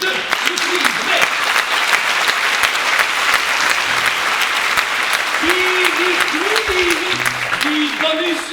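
Loud, sustained applause from a theatre audience for the band at a season presentation, with someone talking over the clapping at several points.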